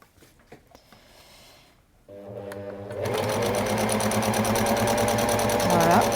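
A sewing machine runs a straight stitch through two pieces of fabric, starting with a few clicks and then settling into a steady fast close whir after a short pause, with no talking.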